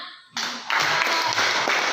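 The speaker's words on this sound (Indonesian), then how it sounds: "tepuk tangan" Classroom hand clapping breaks out after a short quiet, a quick burst of several pairs of hands that swells into a steady patter nearby.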